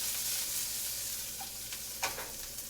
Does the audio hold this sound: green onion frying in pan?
yes